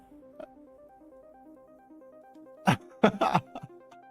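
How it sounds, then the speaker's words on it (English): A streamer gives a cluster of sharp, close coughs, one isolated hit followed by a quick burst of three or four. Quiet background music with a repeating melody plays under the coughs. "I've got a little bit of a cough, so I'm muting myself randomly."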